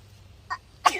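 A small, stifled sneeze in an abandoned apple orchard, with a faint catch of breath just before it, brief and fairly quiet.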